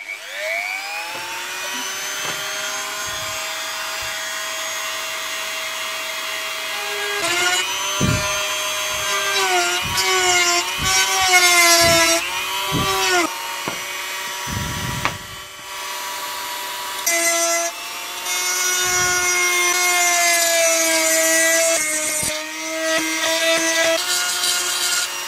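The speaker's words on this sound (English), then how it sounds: "I'm basically going to drill in here just to make enough room for the wire" A drill biting into a wooden stained glass frame to cut room for the wire, heard up close as a steady whining drone with pitch that sags and recovers under load, broken by brief pauses and restarts.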